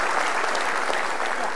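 Studio audience applause at an Indonesian television talk show, a dense, steady clapping that fills the whole stretch at an even level, without any voices rising above it.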